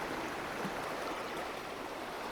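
A river in Belgian woodland flows with a steady, dense rushing of water, constant and close, with no voices.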